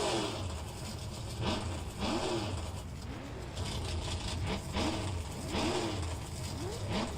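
Race car engines in a sim racing game idle and rev in short rising sweeps, a steady mid-pitched drone with repeated throttle blips at moderate volume.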